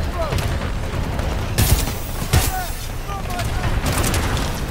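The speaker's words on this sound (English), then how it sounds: "Double barrel sniper." A double-barrel sniper rifle fires in the game Titanfall 2, a few sharp booming shots over continuous background game noise.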